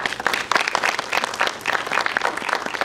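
An audience applauds Rennie Curran, a Georgia and SEC linebacker who played in the NFL and now plays in Canada, at a youth football panel; steady, dense clapping fills the room for a few seconds.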